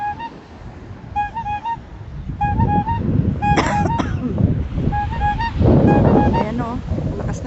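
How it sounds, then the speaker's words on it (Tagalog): Strong ocean surf rolls and crashes loudly on a beach against strong wind buffeting the microphone, while people talk and a few high electronic beeps sound. "Lakas na yung alon."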